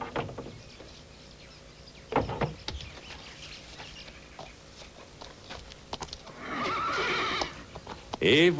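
A pony neighs in a stable yard, a whinny rising near the end after scattered hoof clops and rustling, with a bird calling faintly and a voice speaking at moments.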